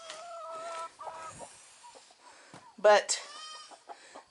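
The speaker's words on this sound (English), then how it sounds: "Chickens are all doing well." Chickens cluck and squawk near a farmyard, a few scattered calls and one louder burst, under brief bits of a person talking.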